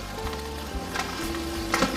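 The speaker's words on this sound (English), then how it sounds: "so our viewers can hear that sizzle because that's yummy" Pastrami sizzles on a hot flat-top griddle, a quiet steady crackle with soft clanks and scrapes of a utensil.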